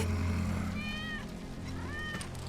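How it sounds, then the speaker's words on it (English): A cat meows twice in a Final Fantasy VII Remake scene, two rising, drawn-out cries near the listener over a steady low game background hum. "That's Wedge's cat."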